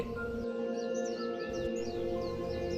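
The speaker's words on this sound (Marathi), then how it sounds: "सफरचंदाच्या बागेत कितीतरी पक्षी किलबिलत होते" Birds chirp in an orchard of apple, orange and lychee trees, used as an audio drama effect. Faint, scattered short chirps sit over a steady low background.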